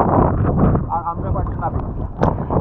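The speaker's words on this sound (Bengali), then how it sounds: "চারপাশে প্রচণ্ড বাতাস, দুদিকে আর কোনো কিছু দেখা যাচ্ছে না, শুধু ঢেউ" Heavy wind buffets the microphone in a loud, low rumble on the Jamuna River, with waves sloshing and a motor-like drone beneath; a voice can be heard talking through it.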